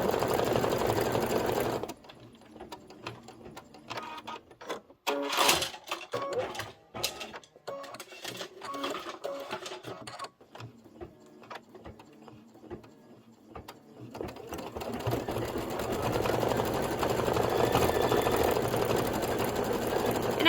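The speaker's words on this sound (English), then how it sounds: "So if you don't have a bobbin, wind one down." A sewing machine winding a bobbin of cork-coloured thread, with a fast, steady mechanical whir at the start, then stop-start bursts of motor and clicking, before a long even run of whirring at the end.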